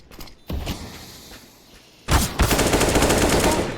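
Gunfire in Counter-Strike during a collegiate esports qualifier match, a short burst followed by a pause, then a loud sustained automatic volley of rapid shots that carries to the end.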